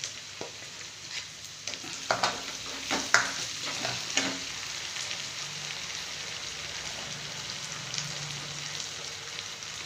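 Ground curry masala with chili powder being stirred in a pan, a soft sizzle under a run of spatula scrapes and taps clustered early, then a quieter steady frying hiss.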